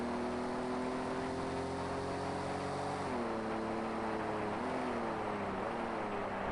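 A Group 5 race car engine drones steadily on the track at Watkins Glen, a sustained buzzing tone that dips briefly twice as the car shifts or lifts, heard continuously from onboard.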